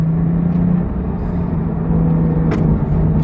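Porsche 911 Carrera T with a twin-turbocharged 3-litre engine under way on the Goodwood circuit, a steady loud engine drone with a low rumble held throughout and a brief higher whoosh partway through.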